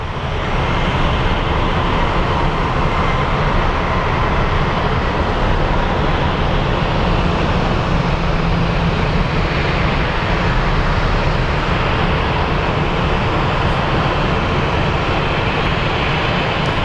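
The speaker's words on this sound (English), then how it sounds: "So right now we're watching the ground crew unhook this Southwest flight." A continuous, loud broadband roar of airport jet noise at Phoenix Sky Harbor, where ground crew unhook a Southwest airliner, steady throughout with no breaks and no voices.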